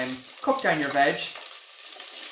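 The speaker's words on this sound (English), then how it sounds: "that sizzle, that's what you want, a nice hot pot" Vegetables sizzle and fry in a hot pot, a bright steady crackle, close and moderately loud, running under a voice that talks over the first half and then fading to a softer hiss.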